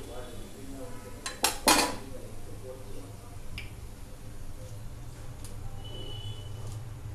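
A filter ladle clinks and scrapes as fried vadas are scooped out of hot oil, two quick metallic knocks early on over a continuous low bubbling hum, then faint scattered taps.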